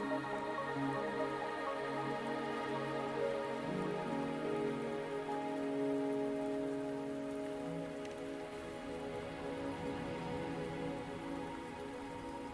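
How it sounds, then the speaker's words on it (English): Steady rain falling in the video game Wuthering Waves, an even hiss of raindrops with soft drips, laid over sustained musical tones throughout, moderately quiet and unbroken. "Are you trapped here by the rain?"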